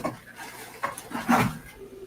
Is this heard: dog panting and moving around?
yes